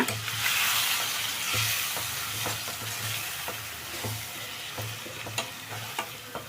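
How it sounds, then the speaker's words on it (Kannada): Food frying in a pan sizzles steadily while a utensil scrapes and stirs it in repeated strokes, with no voices present. "ಒಂದು ಸಲ ಸುಮ್ಮನೆ ಹಂಗೆ ತಿರುಗಿಸಿ ಬಿಟ್ಬಿಡೋಣ"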